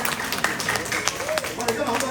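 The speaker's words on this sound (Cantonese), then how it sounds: "係需要大家嘅掌聲啊！" Scattered audience clapping rises at a community stage event, sparse and uneven, with a voice talking over it throughout.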